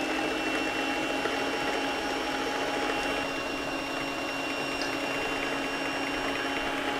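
An electric mixer whips five egg whites for meringue, giving a steady even whirring drone with a faint high whine that holds without pause throughout, no voices over it.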